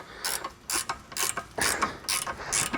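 A ratchet wrench tightening a bolt on the suspension of a 2018+ Jeep Wrangler JL during a 3-inch lift install, giving repeated bursts of fast metallic clicking, close and fairly loud, with short pauses between strokes.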